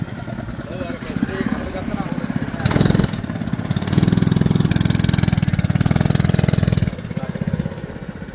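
Car engine running during a street car race in Jaffna's Pannai area, a loud, steady mechanical drone that swells into a heavier, louder stretch in the middle before easing back, with voices talking over it.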